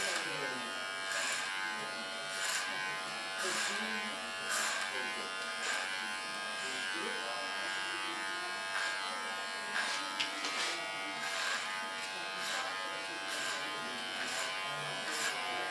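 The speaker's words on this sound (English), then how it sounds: "Start with a large clipper." A large electric hair clipper buzzes steadily and fairly close throughout a short summer haircut, its hum changing slightly as it moves along the sides of the head.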